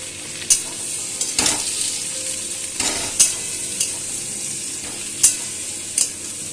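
Potato, brinjal and beans fry in hot oil under a constant loud sizzle, while a utensil stirs them with sharp clanks and scrapes against the pan every second or so.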